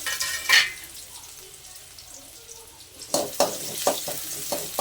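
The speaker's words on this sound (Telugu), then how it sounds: "ఇప్పుడు ఆనియన్ కూడా కొంచెం బ్రౌన్ కలర్ వచ్చేంత వరకు వేయించుకోవాలి" Thinly sliced onion frying in a pan with mustard seeds for a mutton gravy gives a faint sizzle. A stir clinks at the start, and a run of sharp utensil scrapes and taps near the end.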